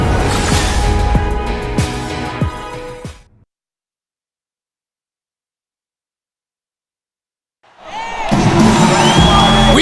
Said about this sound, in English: We've got an electric crowd here in Golden State's Oracle Arena.